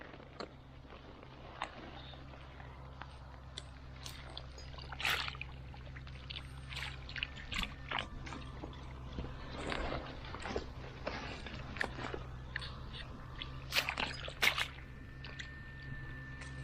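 Light water trickling and splashing close by in a canal while frogs are washed, with scattered wet clicks and knocks over a steady low hum, no talking.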